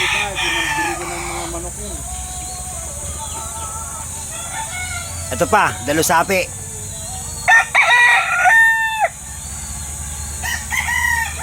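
Roosters kept for cockfighting crow in a backyard, several loud drawn-out calls in close succession along with some clucking, while someone talks intermittently.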